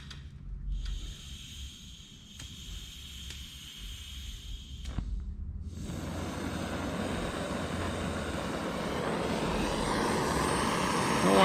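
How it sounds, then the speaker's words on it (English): A MAP gas torch hisses as it heats a metal fitting, starting faint with a few small clicks and then swelling into a steady, loud, broad roar that grows slightly stronger toward the end. "we're going to heat this fitting up a little bit and give her a shot, see what happens. Just using some MAP gas to heat it up"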